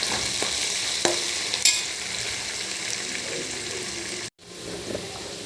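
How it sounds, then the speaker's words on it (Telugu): Curry leaves and coriander fry in hot oil with a steady, bright sizzle while a utensil stirs them. Occasional scrapes and taps sound against the pan, and a brief gap falls near the end before the hiss returns. "కరివేపాకు కొత్తిమీర అన్నీ కొంచెం వేస్తున్నాను ఇవి చక్కగా వేగాక"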